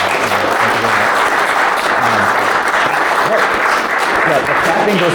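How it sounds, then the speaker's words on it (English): Sustained audience applause at a live-recorded Identiverse 2026 after-dark podcast session, loud and dense throughout, with chatter and voices mixed into the clapping crowd. "The clapping goes out to you guys, right?"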